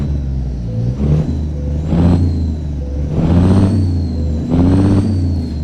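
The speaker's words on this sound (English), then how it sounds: "Get a lot more of that fan sound, a lot more of that whooshing turbo sound" A Cummins N14 diesel truck engine rumbles loudly in pulsing surges, heard from behind the truck, with a high turbo whistle, fan sound and whooshing air riding over it.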